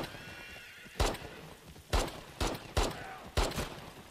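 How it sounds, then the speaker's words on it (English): Horses gallop through a horseback drive-by shootout in The Last of Us Part II, with about five sharp, loud gunshots cracking at uneven intervals and a faint whinny early on. "Horseback shit. Hey, horseback drive by."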